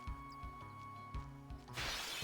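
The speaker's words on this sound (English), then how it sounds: "We can't see them until the screen shatters." Screen-shattering battle transition from the video game Final Fantasy X: a short glassy burst of bright, noisy crackle that bursts in near the end, following steady game music tones and soft thumps.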